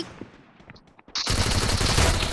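Rapid automatic gunfire bursts out loudly and continuously after a second of quieter game sounds, rattling in a dense stream in the mobile shooter Free Fire.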